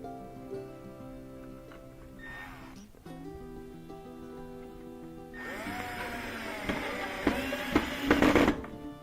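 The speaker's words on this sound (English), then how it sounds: "Putting in these P1s, these are the longest screws." Power drill whirring up to drive long screws into a DIY chicken coop, a brief burst early on, then a longer, louder run with the motor straining and bumping near the finish.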